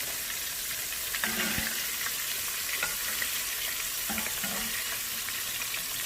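Plump jumbo shrimp deep frying in hot oil, a dense continuous sizzle and crackle close up, with a few soft clinks as pieces are moved.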